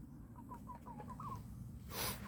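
Chickens clucking in a short series of soft, evenly spaced calls, fairly near, against steady low background noise, followed by a brighter burst of sound near the end.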